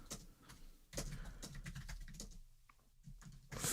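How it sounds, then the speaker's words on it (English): Fast typing on a computer keyboard, a quiet, dense run of clicking keystrokes with brief pauses, fairly close and heard alone. "Furiously typing."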